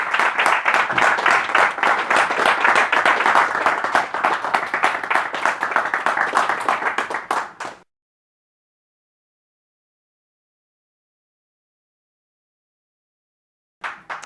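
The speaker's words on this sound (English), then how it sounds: "Let's give him a round of applause." Audience at a university student conference applauding after a talk, a dense burst of clapping for about seven seconds that ends abruptly, followed by silence and a brief return at the very end.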